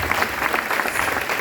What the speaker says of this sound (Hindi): मैं चाहती हूँ एक बार सभी लोगों के लिए एक बार जबरदस्त ताली होनी चाहिए